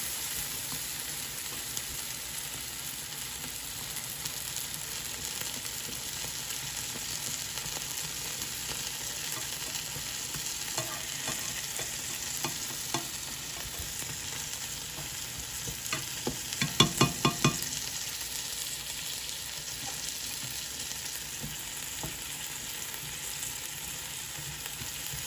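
Curry powder and pimento sizzle steadily in melted butter in a pan, with a brief cluster of scraping stirs partway through.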